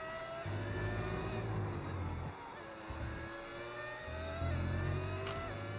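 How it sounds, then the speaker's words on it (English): A Formula 1 car engine in the F1 25 racing game revs hard and drones at high pitch, with steady upshifts and brief dips as the throttle lifts, loud and close throughout. "The car sounds amazing."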